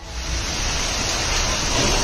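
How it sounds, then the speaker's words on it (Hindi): Heavy storm rain with strong winds lashing down in Madhya Pradesh, a dense, steady roar of broadband noise that stays loud and constant throughout with no voices. "तेज हवाओं के साथ बारिश हुई"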